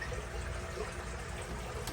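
Water from a fish tank siphoned through a hose into a bucket, a steady soft trickle and gurgle of flowing liquid close by, with no talking.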